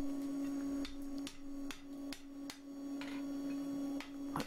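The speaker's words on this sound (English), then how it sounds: "I always like to try and finish rounding things off like this on the anvil." Metal lantern bracket struck on an anvil while rounding it off, giving sharp ringing hammer blows at an irregular pace, about eight strikes over a steady background hum.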